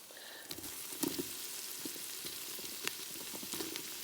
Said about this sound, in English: I'm going to add in my garlic, get that stirred around. Again, let it saute for a minute or two